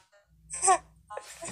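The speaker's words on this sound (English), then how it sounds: "These two cats are fighting." Two cats fighting, a short rising yowl followed by a harsher snarl, heard close over faint game music in the background.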